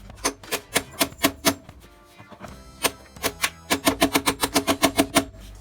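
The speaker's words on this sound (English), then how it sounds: "whack it that way with a hammer or something" Rapid hammer blows ring out close by in uneven bursts during engine head gasket and valve cover work, a quick run of strikes, a brief pause, then a longer steady volley.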